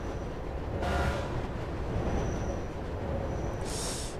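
A train rumbles along rails in the Mirror's Edge game, a continuous low, heavy roar with rattling wagon noise and two brief bursts of bright hiss.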